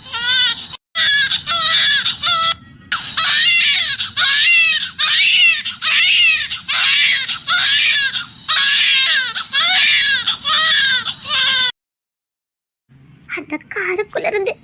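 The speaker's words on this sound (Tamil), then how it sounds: "ஆனா குழந்தை அழுற சத்தம் கேக்குதுங்க" A baby cries loudly and close, in repeated wailing bursts with short breaths between, stopping abruptly near the end before a few faint whimpers.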